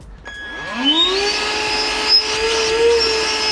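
An ETENWOLF Vortex S6 portable air inflator running in deflate mode starts with a quick rising whir, then settles into a steady, loud, high motor whine with a hose attached.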